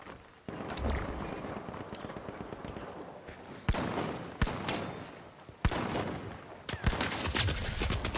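Sharp, loud gunshots from an R .357 revolver in the shooter game The Finals, several spaced blasts over continuous gunfire and game noise from a busy firefight.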